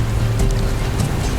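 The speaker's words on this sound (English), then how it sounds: "The waves are crashing up against the port wall there." Ocean waves crashing against a port wall, heard from a kayak out on the water near the headland: a loud, continuous wash of surf and wind with low rumble and no clear speech.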